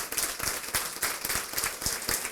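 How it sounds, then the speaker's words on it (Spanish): A studio audience gives a final loud round of applause for a guest, the economist Pablo Lucio Paredes, dense rapid clapping filling the room steadily with no voices over it. "Pido que le den un último y fuerte aplauso a mi invitado de esta noche"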